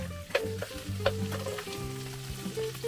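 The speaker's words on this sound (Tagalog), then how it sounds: "Gigisa mo ng bawang sibuyas." Garlic and onion sautéing in a pan while cooking outdoors at a farm, a steady frying sizzle throughout with a few stirring knocks and clinks, close and moderately loud, no talking.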